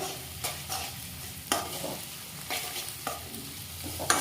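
A utensil stirs and scrapes through sizzling egg in a hot pan, with several distinct strokes over a steady background frying hiss.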